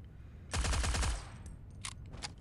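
A rapid burst of automatic gunfire from a competitive Forward Assault match rattles out for under a second, followed by a few faint, short clicks and pops.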